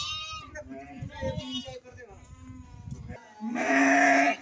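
Sheep and lambs bleat at an evening pen, several overlapping calls close by, a loud sustained bleat rising near the end, with someone talking throughout.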